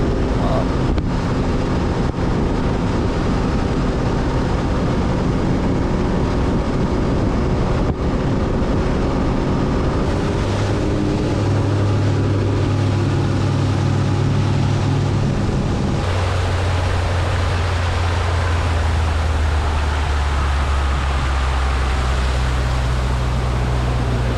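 A motorboat engine on the Neuse River drones steadily over rushing water and wind buffeting the microphone, the engine tone deepening partway through.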